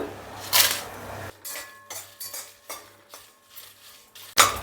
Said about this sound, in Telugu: ఇందులో ఇప్పుడు మనం ఎండుమిరపకాయలు వేసుకుందాం